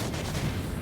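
Missile Barrage attack in the video game Starless Abyss: a dense, steady roar of rapid blasts that stays loud and even for under a second.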